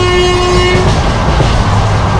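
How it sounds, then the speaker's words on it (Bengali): Inside the 13466 Intercity Express running from Malda toward Nabadwip Mayapur, a loud continuous rumble of the moving train with a steady tonal horn or whine early on, no voices. "আর আমাদের ট্রেন নিজের গতিতে ছুটে চলেছে মায়াপুরের উদ্দেশ্যে"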